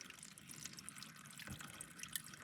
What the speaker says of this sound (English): catch this little stream of water that's coming down that way